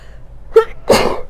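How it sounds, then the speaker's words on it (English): A single sneeze, loud and close: a short sharp intake followed by a burst of breathy noise, standing alone with no talk around it. "I just had to sneeze then"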